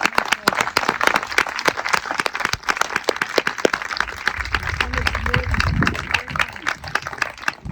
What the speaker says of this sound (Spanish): ¿por qué no le damos un fuerte aplauso a nuestro Señor Jesucristo?